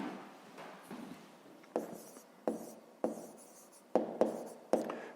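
A pen scratches on paper while someone writes out a solution to a fifth-grade maths exercise, with close, rhythmic strokes in short bursts and brief pauses, roughly once a second.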